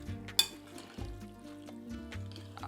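Tuna pasta salad with olive oil, lemon and orange is stirred in a bowl: quiet scraping and soft wet mixing strokes, with a sharp utensil clink near the start and a few lighter taps.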